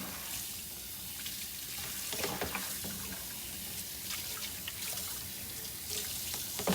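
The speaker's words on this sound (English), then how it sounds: "Now I'm going to rinse off my stuff here" A bowl is rinsed under a running tap at a sink, a steady wash of flowing water with splashing bursts and clatter as the bowl is turned, close and moderately quiet with no talk.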